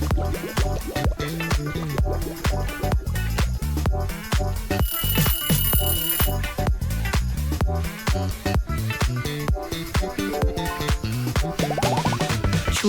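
An alarm clock rings in a rapid, bright metallic jangle over a busy rhythmic backing track, loud and continuous throughout.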